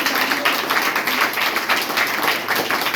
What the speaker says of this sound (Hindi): एक बार जोरदार ताली सर चाहूँगा।